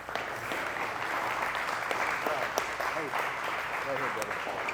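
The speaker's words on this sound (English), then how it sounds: "Give them a round of applause" Audience applause at a live talk as a speaker's guests are sent back to their seats, steady crowd clapping with a voice speaking over it and an occasional sharper clap standing out.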